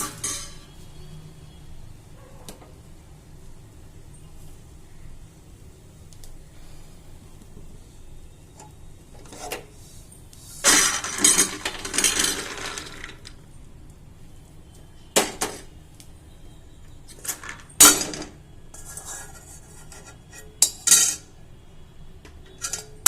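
Roasted peanuts are tipped from a pan onto a plate, giving a few bright clattering rattles and scrapes in short bursts against a quiet background, with sparse small clicks between.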